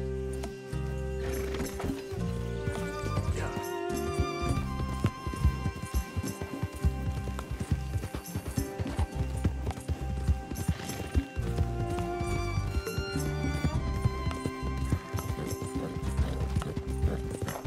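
Horse hooves gallop in a steady clip-clop in the video game Red Dead Redemption 2, running continuously under dense in-game music with no talking.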